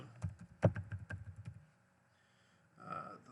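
Quick, uneven typing on a computer keyboard, a burst of close key taps lasting about a second and a half. A short pause follows before a faint bit of further sound.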